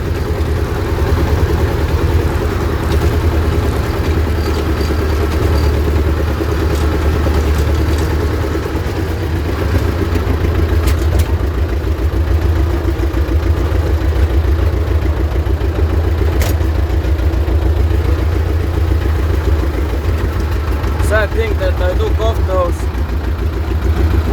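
A T16m tractor's engine runs steadily while it drives, a constant loud low rumble with a faint rattle that goes on throughout, as someone talks over it.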